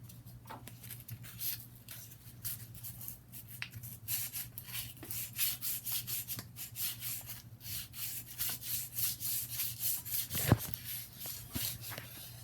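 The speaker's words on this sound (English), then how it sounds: "Just sanding the wood" Repeated rubbing strokes of hand sanding on wood, a rhythmic rasping back and forth with a faint low hum underneath and no speech.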